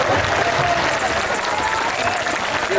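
A crowd applauds steadily at an outdoor anti-nuclear, anti-war rally, a dense continuous wash of clapping with a murmur of voices mixed in.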